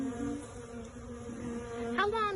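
Honey bees drone loudly and steadily inside a hive, a close, sustained buzzing hum that swells slightly near the end.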